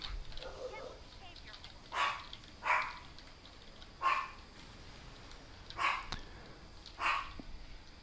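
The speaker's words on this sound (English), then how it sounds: "Dogs." Several dogs bark in short separate bursts about once a second, fairly close and moderately loud, over a steady background murmur.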